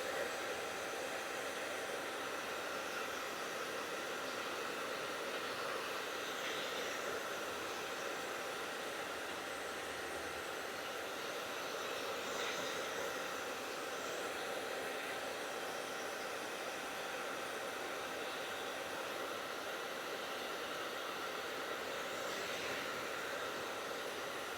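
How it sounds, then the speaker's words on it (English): A steady, unbroken whoosh of a hair dryer blowing on high onto waxed canvas, close by and constant throughout with no voices. "The hairdryer will actually blow that extra wax out of the way."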